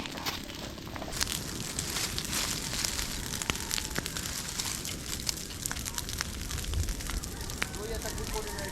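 An outdoor fire burns on a hilltop building site, a steady roaring rush with scattered crackles and pops, loud and close, while people talk over it.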